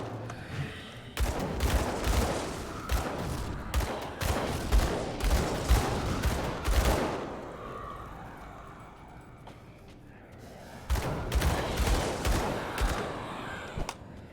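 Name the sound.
volleys of pistol gunfire in the video game Grim Dawn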